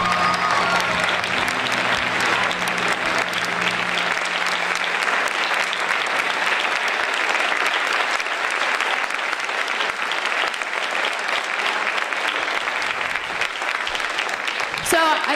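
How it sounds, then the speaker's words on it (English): A school audience applauds at a spring band concert, with steady, dense clapping that holds at a loud level for about fifteen seconds. "Let's give a round of applause to Michelle."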